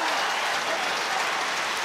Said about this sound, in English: Franklin's Gardens rises to applause